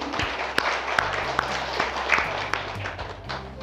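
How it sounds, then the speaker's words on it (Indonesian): Seminar attendees at a session on eliminating domestic violence give a modest round of scattered applause, with sharp individual claps standing out over a low electrical hum and room noise. "berikan tepuk tangan dulu untuk Bapak Popon sekali lagi"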